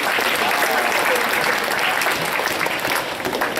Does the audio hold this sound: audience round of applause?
yes